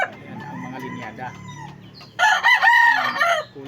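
A gamefowl rooster crows loudly and close by in a burst near the end, after a stretch of lower clucking and background murmur.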